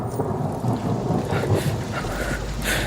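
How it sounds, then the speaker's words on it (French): Steady rain with rumbling thunder, a broad continuous wash of downpour under deep rolling booms that swell and fade throughout. "La pluie."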